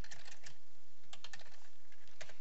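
Keys clatter on a computer keyboard as code is typed, a quick close-up patter of uneven bursts and short pauses with no voices over it.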